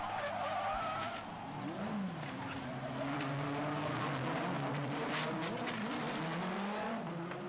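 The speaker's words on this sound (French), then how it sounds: "cela va provoquer un énorme carambolage devant la statue Foch" Formula Renault race cars in a 2004 French championship street race pile up near a statue, with sustained tire skidding and squealing over droning engines, loud and continuous throughout.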